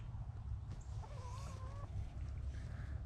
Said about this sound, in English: Oh, we got the chicken brigade.